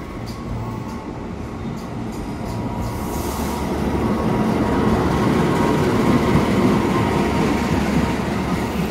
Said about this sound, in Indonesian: Jalur 7 kereta api barang.